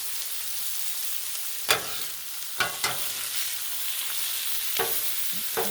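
Eggs frying on a Blackstone griddle beside steak fried rice, with a constant close sizzle broken by a handful of sharp metal spatula clicks and scrapes.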